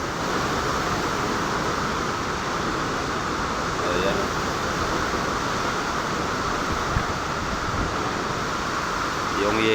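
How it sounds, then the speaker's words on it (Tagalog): Strong typhoon wind roars continuously outside a third-floor vantage point amid flooding, a dense steady broadband rush with no gaps, while a person speaks over it throughout. "Ang lakas yung hangin."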